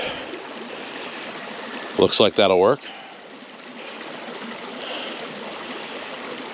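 Small backyard creek flowing steadily with a soft, even trickle throughout, briefly interrupted by a short spoken remark near the start.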